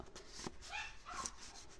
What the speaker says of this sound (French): désolé, les chiens qui aboient